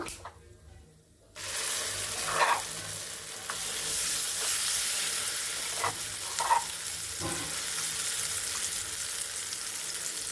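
Spices tempering in hot oil for a green chili chutney burst into a loud, steady sizzle after a quiet second, then hiss on continuously with a few faint stirring knocks.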